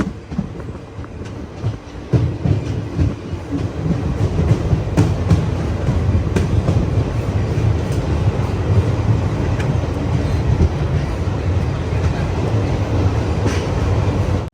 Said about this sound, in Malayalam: കോട്ടയം റെയിൽവേ സ്റ്റേഷനിലേക്ക് ഇതാ നമ്മുടെ ട്രെയിൻ എത്തിക്കൊണ്ടിരിക്കുകയാണ്